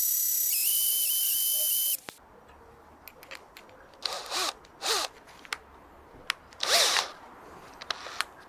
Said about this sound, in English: So I'm going to try the next size drill bit up and keep it slow.